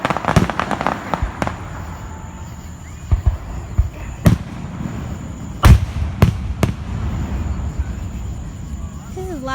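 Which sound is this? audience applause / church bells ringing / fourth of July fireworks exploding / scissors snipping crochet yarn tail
fourth of July fireworks exploding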